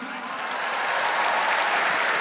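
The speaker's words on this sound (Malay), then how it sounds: "tepukan." A large crowd applauds at an outdoor solidarity rally for Gaza, a dense continuous wash of clapping that swells slightly and stays loud throughout.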